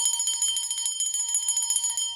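A small bell is rung in rapid, repeated strikes, producing a bright, sustained metallic ringing that stays loud and close for the whole stretch, with no voices.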